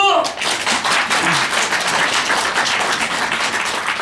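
Applause from a crowd at an election candidacy press conference in Seongnam breaks out after a brief voice at the start, then holds as a dense, steady clatter of clapping for the rest of the clip.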